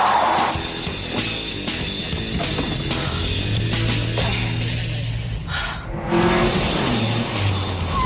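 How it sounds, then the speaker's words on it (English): A car skids and swerves on a driving-test course, its engine revving and its tires squealing in loud bursts over a continuous motor drone, with no talking. "On her third attempt, she skids and swerves"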